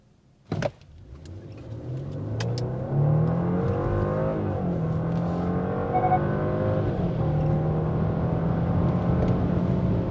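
Genesis G90 with a 380-horsepower 3.5-litre turbo petrol engine, eight-speed automatic and AWD accelerating hard from 0 to 100 km/h, a rising engine roar with audible gear shifts, preceded by a brief click.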